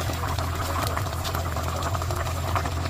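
Belly pork with star anise in oyster sauce, with onion added as the pan keeps up a steady bubbling sizzle and a low constant hiss, even and close with no voices.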